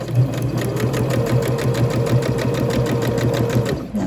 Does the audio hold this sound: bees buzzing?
no